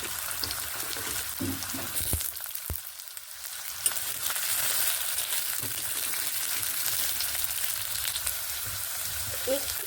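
Potatoes frying in hot oil in a kadai, a continuous soft sizzle and crackle with a few faint clicks of utensils, no talking.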